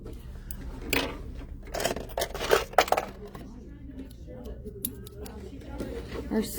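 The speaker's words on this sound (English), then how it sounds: "Our scissors need some TLC." Scissors snip and scrape while trimming a paper ghost bookmark, a few close cuts and rustles clustered in the middle, with talk around them.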